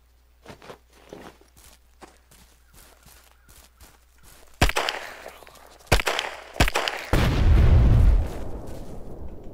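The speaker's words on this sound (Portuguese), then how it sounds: "Caramba, o cara jogou uma granada aqui" Grenade blast in a shooter video game: soft footstep-like taps give way to sharp cracks and bursts, then a loud, rumbling explosion swells and lingers toward the end, close and heavy with no talk.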